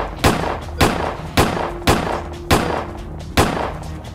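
Six loud gunshots in an animated surgery-themed cartoon, each a sharp bang with a short decaying tail, fired at a steady pace about every half second to second, close and alone with no talk.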